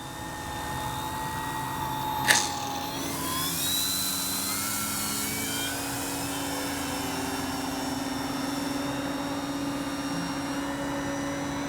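A Flex RV8 radio-controlled model airplane flies overhead in a steady electric whine that holds at a constant moderate loudness, with shifting pitch as it passes, after a brief sharp click early on.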